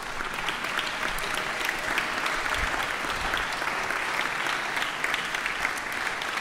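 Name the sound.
applause for sponsors at camp concert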